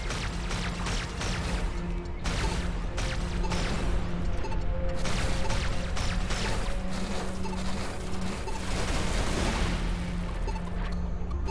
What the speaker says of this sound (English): I was trying to shoot that missile out, but I was a bit too far away.